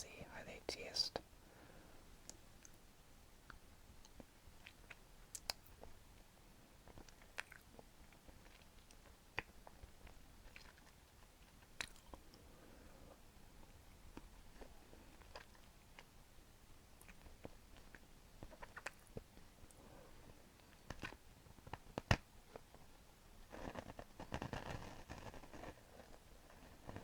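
Maltesers, malt-centred milk chocolate balls, being crunched and chewed in a quiet close-mic whisper setting, with soft scattered bites and mouth sounds between faint whispered speech.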